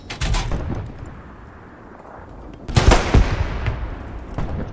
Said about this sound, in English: Maybe one or two shells still coming down.